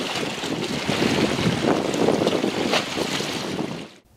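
Sea waves wash along the coast at a seaside corniche in Yemen, blended with strong wind buffeting the microphone. The roar is loud and continuous and cuts off abruptly at the end, with no voices.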